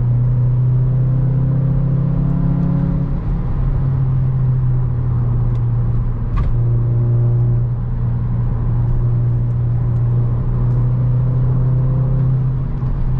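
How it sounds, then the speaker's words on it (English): Volkswagen MK8 Golf engine and exhaust with a muffler delete, a steady low droning rumble at constant revs throughout, loud and close, with a brief click midway and no talking. "I think it has like a muffler delete right now"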